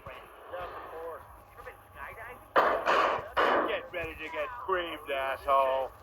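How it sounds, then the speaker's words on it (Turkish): Several loud, sharp bangs and impacts as a car door is broken in a video game, struck repeatedly in bursts, mixed with a speaking voice and background game noise. "Kapıyı güzel kırıyorum arkadaşlar."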